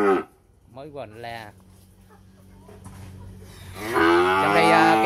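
Cattle at a Vietnamese cattle farm: a long drawn-out moo near the start and a louder, sustained low moo toward the end, with a person talking in between and farm background around.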